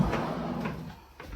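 A soft-close drawer in the bathroom cabinetry of a 2024 Heartland Big Country 3905FL RV glides shut with a muffled slide and a gentle, cushioned settle, close and fairly quiet, with no talking over it.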